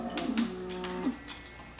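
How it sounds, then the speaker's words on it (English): Cows low in the video game Minecraft, with a drawn-out moo followed by a second shorter one, moderately close, over faint game background noise and no talk. "There's a ton of cows."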